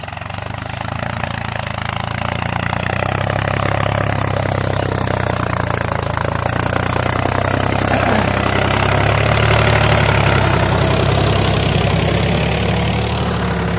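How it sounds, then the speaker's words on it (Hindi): A Mahindra tractor engine pulling a cultivator runs steadily at close range, a loud continuous rumble that grows slightly louder partway through before settling. "देखते हैं अब कितने RPM ड्रॉप करके चल रहा है ट्रैक्टर।"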